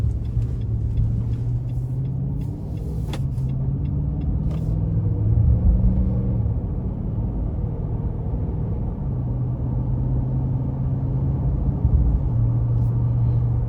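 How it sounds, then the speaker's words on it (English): A 2021 Nissan Titan Pro 4X pickup with a 5.6-liter V8 drives on the road, giving a steady low engine rumble and road noise inside the cab that swells slightly as it accelerates. "we're going to go ahead and take this Titan out on the road for a test drive."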